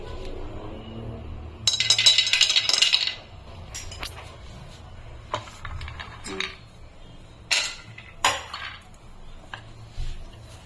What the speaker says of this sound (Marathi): सर्वात आधी आपण याच्यामध्ये बदाम टाकून घेऊया